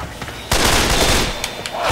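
SCAR rifle gunfire in the video game Left 4 Dead 2: a sudden loud, dense burst of rapid shots, sustained for over a second, then fading into lighter noise.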